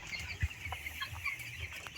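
Fourteen-day-old poultry chicks on a small farm, clucking and peeping softly in scattered short calls against a low background hum and shuffling.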